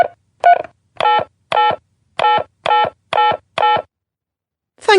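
Telephone keypad tones as a debit card number is entered on a phone service, a series of about eight crisp evenly spaced beeps in quick rhythm, alone with no talk.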